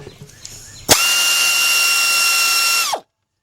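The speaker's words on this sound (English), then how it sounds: "You can use a regular ratchet." Air ratchet loosening an AC compressor bolt on a Cadillac Escalade or Chevy truck, a sharp onset into a loud, steady high-pitched pneumatic whine held for about two seconds before cutting off abruptly, close up.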